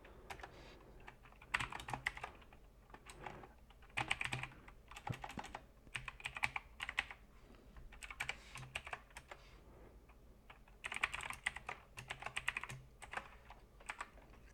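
Python code is typed on a computer keyboard in bursts of quick, close key clicks separated by short pauses, with faint background hum and no talk.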